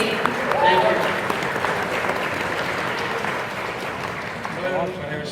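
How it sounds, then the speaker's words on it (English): Convention audience at Bronycon 2019 applauding in a steady, dense wash of clapping that fills the hall throughout, with faint voices and cheers mixed in underneath. "round of applause for Superhero Girls, please"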